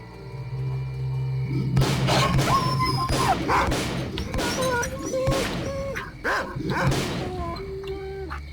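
Dogs in the video game S.T.A.L.K.E.R.: Call of Pripyat bark and yip in a rapid, overlapping series against a low ambient hum, fairly close and persistent across the stretch.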